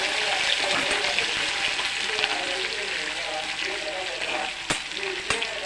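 Green chillies and raw onions sizzle and fry steadily in hot oil in a pan, along with dried red chillies and curry leaves, a dense close crackle with a couple of sharp spatters near the end.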